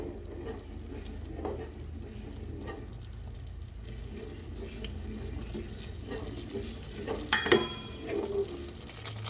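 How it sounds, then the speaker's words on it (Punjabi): Wet stirring and scraping of semolina in a pot of water for halwa, low and steady, with a brief louder clatter near the end. "ਪਾਣੀ ਪਾ ਕੇ ਤੁਸੀਂ ਇਹਨੂੰ ਲਗਾਤਾਰ ਹਿਲਾਉਣਾ ਹੈ"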